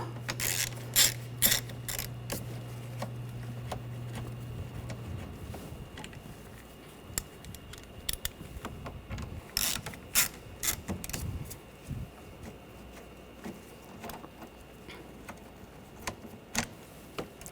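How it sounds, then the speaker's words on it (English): Ratchet fitted with a T25 socket backing out screws on a 2013-2019 Ford Escape engine bay, sparse close clicking and light mechanical ticks with a steady low hum early on. "Take these two screws out, use a T25 socket."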